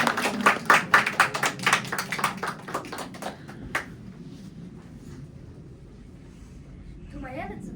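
An audience applauds a staged performance at a book festival celebrating Hovhannes Tumanyan. Many hands clap in a loud, quickening, rhythmic burst that thins out and fades within about four seconds, leaving a quiet room.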